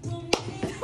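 A single sharp hand clap from someone, close and brief, rising out of low room murmur with a couple of softer knocks or taps after it.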